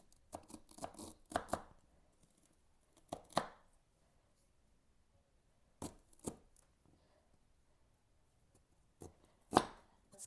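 A knife chopping a large piece of ginger on a board, in short clustered bursts of crisp cuts separated by quiet pauses, close and fairly loud with no talk.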